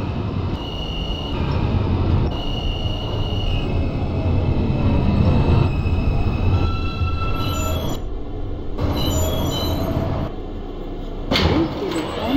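An R160A subway train on a Q local run to Coney Island–Stillwell Avenue in the OpenBVE train simulator game keeps up a steady rumble of wheels and motors, with shifting whines and squeals layered over it throughout.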